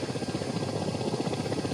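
A helicopter in a flight simulator game thrums steadily throughout, with rapid, even rotor pulses over a broad, loud engine roar and no voices.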